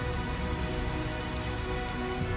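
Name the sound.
rain falling in the video game Tales of Zestiria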